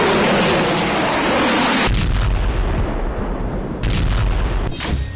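A North Korean missile launch test: a loud, continuous roaring rumble of rocket exhaust that drops off sharply after two seconds into a lower sustained blast roar with crackling surges.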